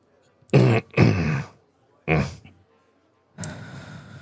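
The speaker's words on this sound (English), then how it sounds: "whoa, bad cough." Several harsh, throaty coughs come close and loud, two quick ones back to back, another after a pause, then a rougher, longer hack at the end.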